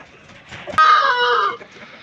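A long-tailed, crested Tamil Nadu rooster gives a single loud, close, drawn-out call lasting under a second after a sharp click, with quiet farm background before and after.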